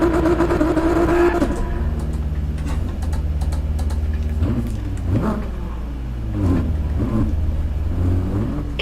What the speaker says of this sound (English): Let's try some burnouts.